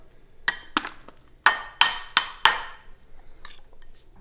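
A giant spoon clanks against the metal insert of an Instant Pot while mixing buffalo-flavored tuna and brown rice, giving several sharp ringing knocks in an uneven rhythm, loud and close, with no voices.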